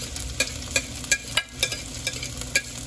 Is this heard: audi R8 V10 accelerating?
no